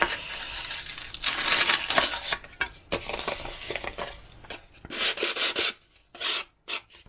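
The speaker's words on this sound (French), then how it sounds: "Je vais découper ça dans du Depron de 6 mm." A 6 mm Depron foam sheet is cut by hand for a model aircraft canopy, giving scratchy, rubbing, rasping strokes in uneven bursts, close and fairly loud, with short pauses between cuts.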